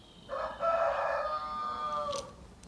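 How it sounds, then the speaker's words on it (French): A rooster crows once in a long, fairly distant cock-a-doodle-doo, faint against quiet background noise and with no voices. "Le coq approuve."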